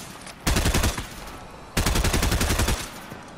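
Rapid automatic gunfire from a computer-controlled ally laying down cover fire in a battle royale video game, two loud sustained bursts of evenly spaced shots separated by a short pause.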